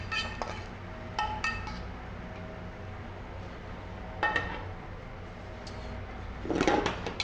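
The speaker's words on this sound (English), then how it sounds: "Now throw the onions in." Fried onions tossed into a bowl of chunky mashed potatoes and folded in, giving a few soft clinks and scrapes of utensil against dish separated by quiet pauses.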